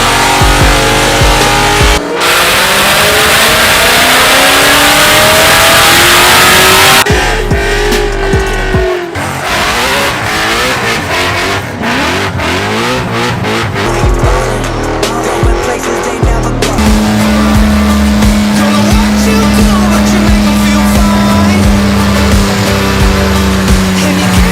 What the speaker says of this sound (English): I've never done a standing burnout in this car.